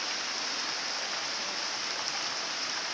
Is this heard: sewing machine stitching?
no